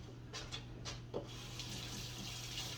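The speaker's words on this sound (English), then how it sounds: "Alright, and then you wash your hands good." Hands washed under a running kitchen tap before handling a Boston butt roast: a steady close rush of water with a few rubbing splashes, no voices.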